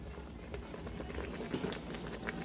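Chicken and turkey dumplings simmer in a pot, a faint, continuous bubbling with soft irregular pops, heard close and with no talk.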